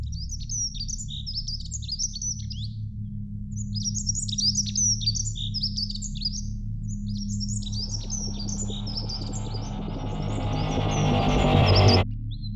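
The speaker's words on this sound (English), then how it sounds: "we're hearing the last recorded sounds of the chiff-chaff and other" A chiffchaff and other small songbirds sing in a recording, repeated bursts of bright chirping phrases over a low steady hum, joined later by a rising hiss of noise.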